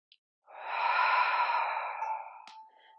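A single long, deep exhale through the mouth during a yoga core exercise, close and clear, swelling then tapering over about two seconds, followed by a faint breath.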